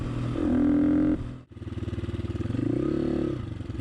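A Honda XLR125R motorcycle engine fitted with a racing camshaft revs up strongly in two long, close pulls, with a rising whine and a brief drop near the middle before throttling up again.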